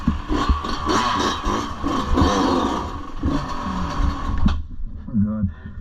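A dirt bike engine revs loudly and steadily up close during an urban ride, its roar fluctuating with throttle before cutting off abruptly near the end, with people talking over it.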